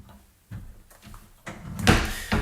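A drawer at the top of a fridge in a rented flat slides open with a soft scrape and a muffled knock, followed by a louder rolling rumble. No one speaks.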